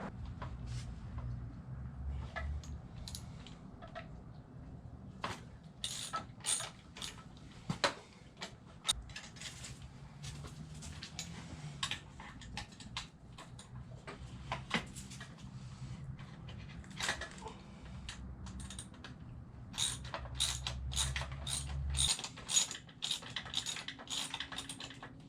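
A ratchet works loose the 8mm bolts on a Honda Grom motorcycle's rear set, giving quick runs of small sharp clicks with pauses between turns over a low, quiet background hum.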